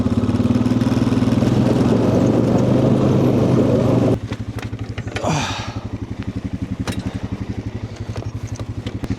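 Four-wheeler engine pulling a trailer on an Alaskan beach while harvesting coal, a loud revving drone that drops to a rhythmic idling chug with some clatter.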